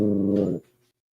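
A dog sound plays from a soundboard button as a short, tonal, whining growl lasting about half a second, then cuts off into silence, close and clear with no talk.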